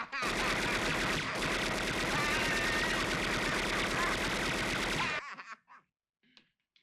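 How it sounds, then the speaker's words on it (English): Rapid sustained gunfire from a suppressed Tommy gun in the film Home Alone, a loud, dense burst lasting about five seconds before cutting off to near silence with faint scattered sounds. "That suppressed Tommy gun, man."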